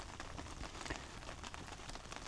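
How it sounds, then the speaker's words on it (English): Rain falls on a campsite in the woods as a steady, faint, even patter that stays level throughout, with no talking over it. "Oh yeah, it's starting to rain."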